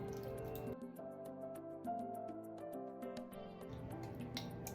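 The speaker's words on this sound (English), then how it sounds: "Now I'm gonna stir this together." Crushed red pepper and brine are stirred into a paste, soft, wet squishing and dripping clicks repeating close up and fairly faint.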